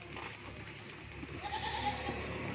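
Goats bleat while being loaded onto a cargo vehicle, several calls rising over a noisy, busy outdoor background.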